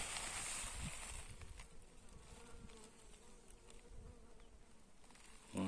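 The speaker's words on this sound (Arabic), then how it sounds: "سرب صغير من النحل" A small swarm of bees searching for water in the Beni Kella area buzzes steadily and close, a continuous droning hum that fills the whole stretch with no voices.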